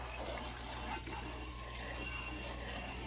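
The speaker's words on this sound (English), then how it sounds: "I just try and clean the drain pan out, flush it with water" Water flushing through an indoor air handler's drain pan during evaporator coil cleaning, a steady broadband rush and gush that runs continuously and evenly, fairly close, with no talk.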